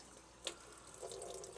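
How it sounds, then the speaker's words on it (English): Cold water running from a sink tap during home film processing, a quiet steady wash of flow with a brief splash or knock near the start. "get my sink going with a little bit of cold water coming out"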